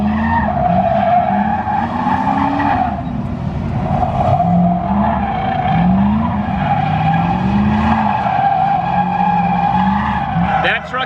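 A drift truck with an automatic transmission slides around a Wisconsin raceway circuit, tires squealing in long wavering howls over a steady engine roar, continuous and close.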